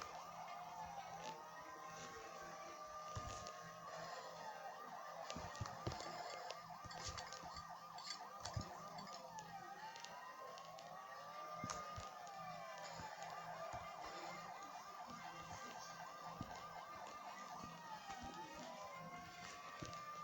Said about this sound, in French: là j'ai ma petite sirène